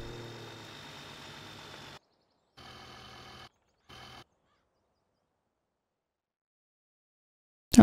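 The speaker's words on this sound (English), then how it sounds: "And that's the biggest fucking tractor." A tractor engine idles with a steady mid-pitched rumble in the Farming Simulator 17 video game, cutting out and returning in short bursts before falling silent.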